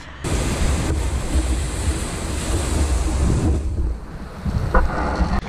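Ocean waves break on the NSW South Coast as a loud, continuous roar of surf, with heavy wind buffeting the microphone and no voices.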